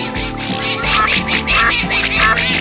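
A loud, busy chorus of ducks quacking on a pond in a Peppa Pig toy story, with rapid overlapping quacks continuing throughout, close and without pause.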